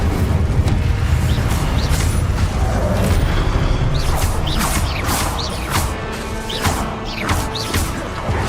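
The Incendio fire spell in Hogwarts Legacy erupts in loud whooshing bursts and crackling, mixed with repeated sharp magical zaps and impacts in a busy, continuous flurry of combat effects.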